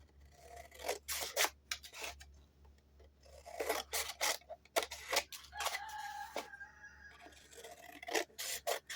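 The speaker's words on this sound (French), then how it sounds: "Et avec les ciseaux, hop, on coupe les angles." Scissors snipping the corners of paper for a junk journal, several crisp rasping cuts in quick bursts, close and fairly quiet, with a faint tonal chirp mixed in partway.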